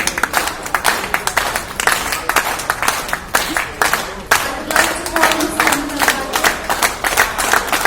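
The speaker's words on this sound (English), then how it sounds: "May I have a round of applause" Broadband clapping from an audience at a Kho Kho Federation of India honouring ceremony fills the whole stretch, with crowd noise and a brief spoken announcement over it.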